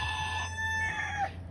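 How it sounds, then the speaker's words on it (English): A tiny rooster crows once, a close, clear, high-pitched call held steady and then bending upward and breaking off near the end, with a low hum in the background. "So he just crowed."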